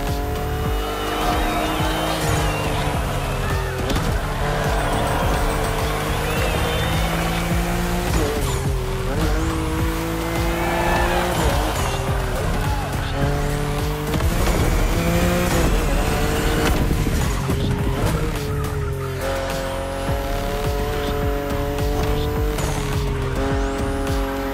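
A BMW M4 Liberty Walk Edition races in The Crew Motorfest, its engine roaring loudly and steadily as it climbs through the gears, with tire squeals and skids over the constant drone.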